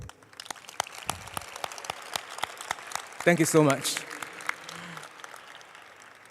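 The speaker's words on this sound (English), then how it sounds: "can we give a warm round of applause for our IMSA teachers and students here?" Scattered applause from a closing ceremony audience honoring IMSA teachers and students: individual claps rising into a round of clapping, with a speaker voicing thanks midway.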